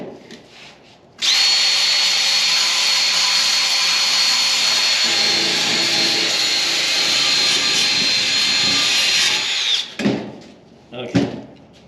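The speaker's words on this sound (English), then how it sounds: "We got the wire wheel, got it all clean." A drill-driven wire wheel whirs steadily for about nine seconds as it scrubs a bad-condition AMC valve cover, a loud, bright, continuous grinding whine that starts abruptly and cuts off, with brief clatter after.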